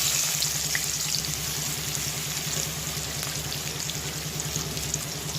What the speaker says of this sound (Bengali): এখন আমি দিয়ে দেব গোটা গরম মশলা আর দুটো শুকনো লঙ্কা ফোড়ন, দিয়ে দেব পেঁয়াজ